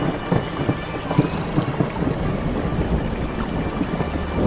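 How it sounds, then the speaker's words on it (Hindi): Heavy rain pours steadily throughout while deep thunder rumbles and cracks roll through the low end, a dense, continuous stormy wash with no voices. "तभी जोरदार बिजली कड़की,"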